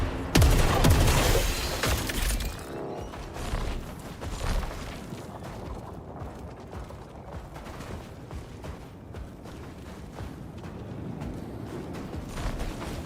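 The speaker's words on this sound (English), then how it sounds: "swap to the eruptor hand cannon, but I get explosive rounds." Explosive rounds from the eruptor hand cannon in the video game Saros go off in a dense burst of booming blasts, loud at the start and thinning into scattered, fainter crackling impacts and mechanical clatter.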